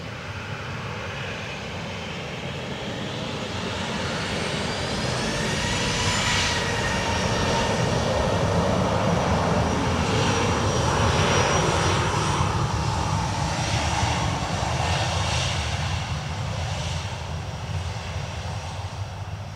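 A Ryanair passenger jet at Dublin Airport, a loud steady engine roar that swells and lingers as the plane passes nearby, with no talking.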